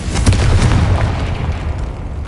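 A Confringo fire-blast spell explodes in the Hogwarts Legacy video game: one loud, close boom that rolls out and decays over about two seconds, with no voices.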